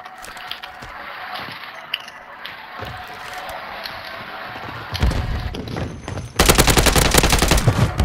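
Rapid automatic gunfire in Call of Duty, sparse shots and mechanical clatter at first, then a dense, loud burst of continuous fire over the last seconds.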